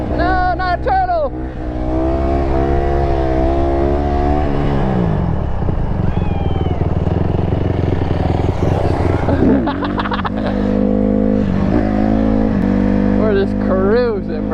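An ATV engine drones while riding, a loud, close hum that rises and falls with throttle changes and shifts tone partway through, with voices talking over it.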